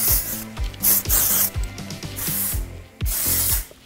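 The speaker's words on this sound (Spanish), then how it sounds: "yo no uso spray de pelo, solamente uso shampoo en seco." Dry shampoo is sprayed onto hair in a series of short, loud hissing bursts, each spray separated by brief gaps and joined by rubbing and shaking sounds, close to the microphone.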